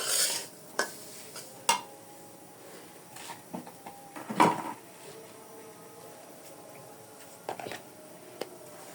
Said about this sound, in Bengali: তো এখন আমি দিয়ে দিব লিকুইড দুধ, যাতে সুজিটা ফুটে যায় সেজন্য।